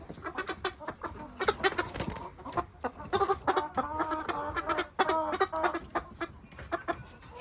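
Pure Shamo pullet chickens clucking and calling in a UK coop, a steady run of close, repeated clucks and short tonal calls with no talking.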